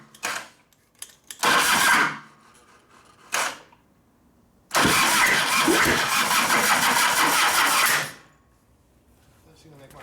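A 1989 Harley-Davidson Softail with a 93ci panhead stroker motor, 3-ohm coil and a weak battery cranks in short bursts, then catches and runs roughly for a few seconds before dying, loud and close, with brief talk between attempts.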